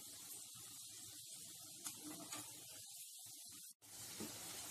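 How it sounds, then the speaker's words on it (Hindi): Moong dal bondas deep frying in hot oil give a steady, even sizzle and hiss that runs through the clip, dropping out briefly near the end before resuming. "बोंडे देखिए हमारे अच्छे से फ्राई हो रहे हैं।"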